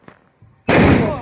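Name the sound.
red 'atom bomb' firecracker exploding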